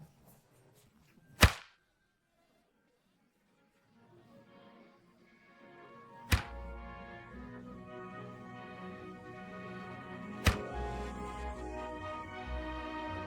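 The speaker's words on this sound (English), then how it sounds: "The sound of the whip marks the beginning of spring." A whip cracks three times, well spaced and sharp, during a Chinese spring-cow beating ritual that welcomes spring. The first crack comes out of near silence, and the later ones land over a growing crowd murmur.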